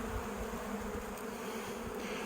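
Dense, steady buzzing of a crowd of honeybees swarming at clogged hive entrances during a robbing frenzy, a close, continuous drone with no pauses.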